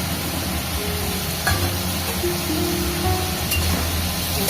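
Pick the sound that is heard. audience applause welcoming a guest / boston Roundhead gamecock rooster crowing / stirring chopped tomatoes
stirring chopped tomatoes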